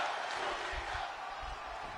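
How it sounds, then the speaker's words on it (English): A steady, dense crowd roar fills a WWE 2K25 wrestling arena, holding at an even level throughout without any distinct individual shouts. "Crowd cheering on."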